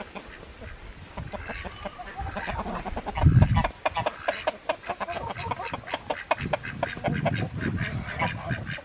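Several chickens cluck and squawk close by, with busy, overlapping calls and a louder burst partway through.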